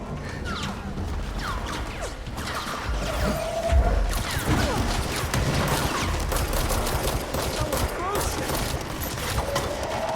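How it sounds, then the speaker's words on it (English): Gunfire and explosions from the video game Control: dense, loud bursts of shooting and crashing impacts run almost continuously, with game voices mixed in. "don't walk in front of the explosives when people are shooting."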